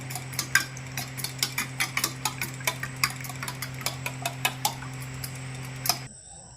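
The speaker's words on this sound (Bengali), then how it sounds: "ডিমটাকে ভালো করে ফেটিয়ে নেব" A fork whisks egg with salt in a bowl, each beat a rapid metallic tick against the sides, steady and close with no voices over it, ending in a brief silence.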